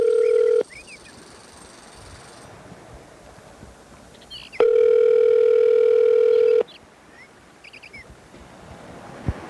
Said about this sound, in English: we're going to call... Mr. Dobler.